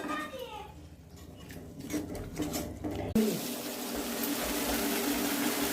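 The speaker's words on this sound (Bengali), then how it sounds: "এখন দিয়ে দেব গরম জল" Hot water poured into a pan of pabda fish curry with mustard paste and fried spices, a sudden loud hissing sizzle that follows clinking and stirring, then a steady bubbling roar.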